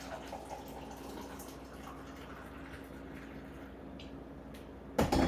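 Coffee trickles gently into a mug, a faint steady pour under a low hum, close by, ending with a brief louder clunk.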